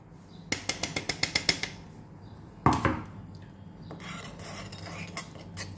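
A spoon stirs powdered fenugreek and black cumin into curry leaf juice in a metal vessel, giving a quick series of sharp clinks, a louder clatter, then softer scraping and swishing close by.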